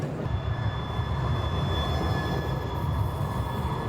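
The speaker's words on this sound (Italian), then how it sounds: "abbiamo preso un tram per andare per dove dobbiamo andare" A Munich tram rolls along with a steady low rumble and faint high wheel whine, close and continuous, with no talking.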